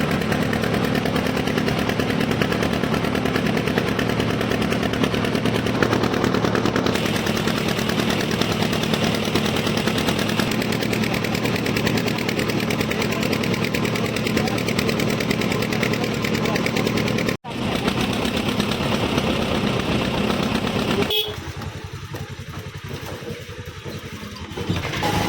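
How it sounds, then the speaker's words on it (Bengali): A boat engine drones loud and steady as the boat sets off, its throbbing running continuously for most of the stretch before a brief dropout and a quieter, rougher tail. "এখন আমাদের এই নৌকাটা ছেড়ে দিয়েছে।"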